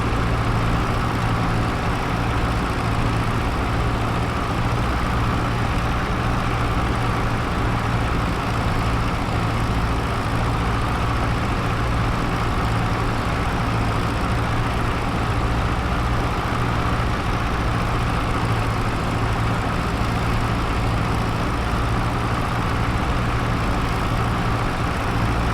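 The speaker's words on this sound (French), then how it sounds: "Ça se voit que c'est un vieux tracteur." Old tractor engine in Farming Simulator 25, a constant loud low rumble with a steady drone that never lets up, with no voices over it.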